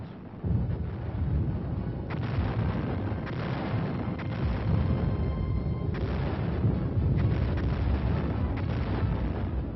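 Massed field artillery of the First World War fires in the trenches of France: heavy, overlapping booms and sustained rumbling blasts roll continuously across the scene, loud and dense with no pauses.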